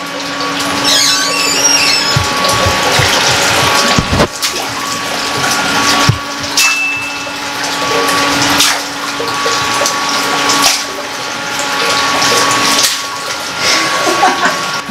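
Motel jacuzzi in Colombia slowly filling: a steady rush and hum of water and pump, with occasional clunks and splashes, loud and close, no talking.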